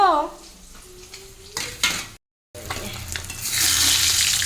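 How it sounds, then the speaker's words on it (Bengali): Catla fish frying in a pan in a home kitchen: a brief voice and pan clatter come first, then a steady, fairly loud sizzle builds and holds to the end. "মাছ ভাজা দেব"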